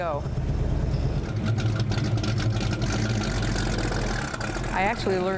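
A car with a 7.5-litre engine and four-speed manual gearbox pulling away in first gear: a steady loud low engine rumble with rising revs, close by, with a voice talking over it.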